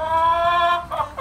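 A hen newly added to a backyard flock with Muscovy ducklings clucks and complains close by: a sustained tonal call followed by a couple of short clucks, with no talking.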